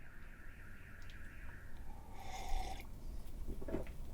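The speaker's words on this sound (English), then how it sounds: "Fucking car alarm going off." A car alarm sounding outdoors in the background, a faint repeating electronic tone cycling through pitch patterns, heard at a distance with low rumble underneath.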